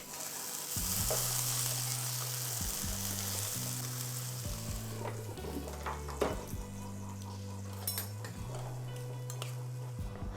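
Potatoes sizzle steadily in a hot pan while a utensil scrapes and stirs them, with occasional clinks of metal against the pan.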